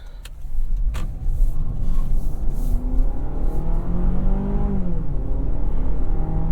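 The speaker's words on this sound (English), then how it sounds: "Acceleration like that is more important to me than 0 to 60." A car pulls hard from a rolling start, its engine note climbing loudly and steadily with rising pitch and a few sharp clicks near the beginning.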